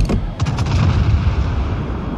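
Naval gunfire from warships in World of Warships, a heavy rolling barrage of deep booms with several sharp bursts early on, sustained and loud with no voices.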